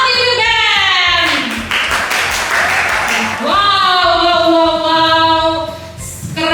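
A crowd claps for a band at a stage show in Surabaya, a dense patter of applause rising between sustained musical tones and speech.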